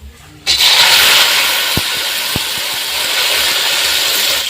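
Whole cumin seeds and jujube plums drop into hot oil for a Bengali jujube pickle, setting off a sudden loud sizzle that keeps hissing steadily, with a few sharp pops and clicks.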